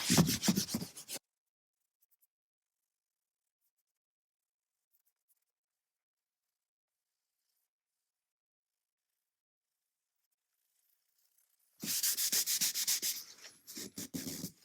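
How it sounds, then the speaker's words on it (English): A car interior upholstery coating is buffed by hand in two bursts of close, dry rubbing strokes, one short at the start and a longer stretch near the end, separated by a long silence. "I don't know what buffing means, but this looks like buffing to me."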